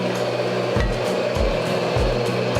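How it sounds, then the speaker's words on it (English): Hammer blows forging a medieval spike axe, about four heavy strikes landing at a steady pace of roughly one every half second or more, close and loud over a constant workshop hiss and hum. "Really trying to watch the angle of my hammer so I don't hit the other spike"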